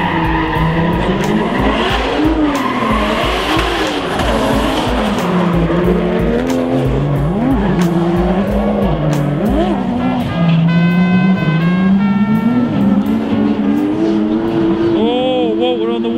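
Drift cars race and skid around a track, with loud revving engines, wavering tire squeal and sliding, close and continuous throughout.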